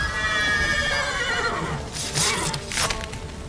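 A horse in The Witcher 3 gives a loud, close, shaky neigh over steady background game noise, followed by a couple of snorting bursts.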